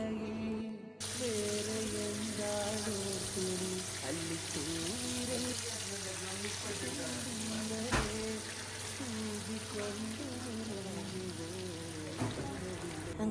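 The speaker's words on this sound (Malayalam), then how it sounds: "പിന്നെ കുറച്ച് ചിക്കൻ പൊരിക്കാനും ഉണ്ടായിന് അതെല്ലാം പൊരിക്കുന്നുണ്ട്" Chicken fries in a pan during festive biryani cooking, a steady, even sizzling hiss running throughout while voices talk over it.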